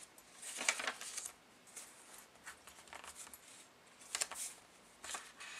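Pages of a Prima "Coffee Break" printed paper pad being flipped through, several soft, quiet riffling swishes spaced irregularly with short pauses between them, heard alone without talk.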